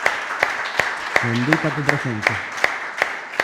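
A church congregation applauds in a series of sharp, rhythmic claps, roughly one every third of a second, while a voice speaks briefly over them in the middle.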